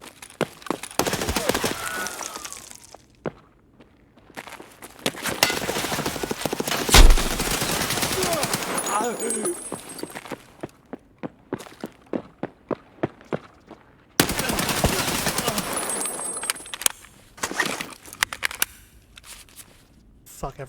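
Gunfire in the shooter game Escape From Tarkov, heard as loud rapid bursts of automatic fire and sharp single cracks in repeated volleys, with a person talking over and between the shots.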